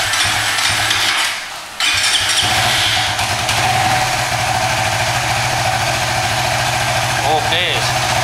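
An engine fitted with an AFR module on its O2 sensor cranks briefly, catches and settles into a steady, loud idle with a rhythmic low rumble; a person talks near the running engine.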